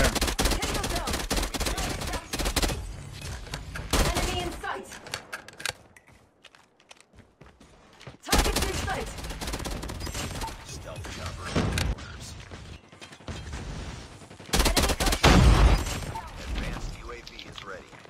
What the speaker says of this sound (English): I don't have a suppressor on this, so they're gonna know like where I am at all times as I'm shooting